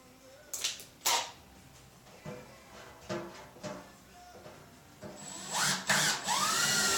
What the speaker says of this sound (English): start my pilot hole.